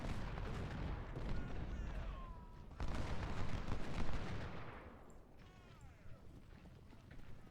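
Random gunfire crackles through a Civil War battle video game around a Union-held fort, a dense rattling volley of distant musket shots with sharper bursts rising and fading over several seconds.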